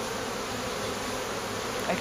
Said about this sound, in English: I feel like there's so many more bees than there were, but there shouldn't be.